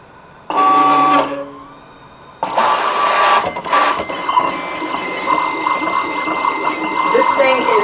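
An electric cutting machine whirs and buzzes as it cuts printable sticker paper, starting with a short mechanical burst, pausing, then running continuously with a steady motorized hum and rattling, close by.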